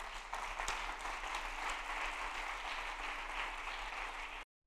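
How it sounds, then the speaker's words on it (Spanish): A church congregation gives sustained, even applause for several seconds, a dense wash of clapping with a few sharper claps standing out, then it cuts off abruptly. "Aplaudimos al Señor."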